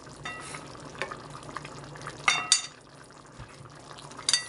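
Chicken creamy menudo being stirred in a pan until it dries a little, with soft scraping and wet squelching strokes close by, a few louder clinks of the utensil against the pan, and no talk.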